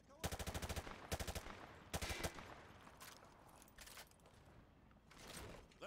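Rapid machine-gun bursts firing through light cover in Modern Warfare 2, three loud close volleys in quick succession followed by fainter scattered shots.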